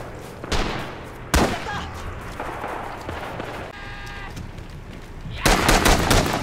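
Type 92 heavy machine gun firing on Iwo Jima in the video game Red Orchestra 2: Rising Storm, sharp close bursts standing out above steady battle noise, a heavy final burst near the end.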